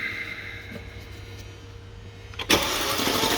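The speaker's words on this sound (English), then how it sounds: "crank the car" A 2014 Mercedes E63 4matic with bent connecting rods and a scored cylinder being cranked in a workshop: a quiet hum first, then a sudden loud burst of starter and engine noise that carries on to the end.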